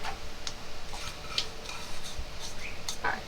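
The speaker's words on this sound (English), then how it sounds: "We're going to fry up the onion and bacon." Onion and bacon frying in olive oil in a pan, a steady hiss under repeated clinks and scrapes of a utensil against the pan.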